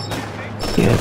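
A machine gun firing in Company of Heroes 2, heard as a short, loud burst of rapid gunfire layered with battle noise over about a second.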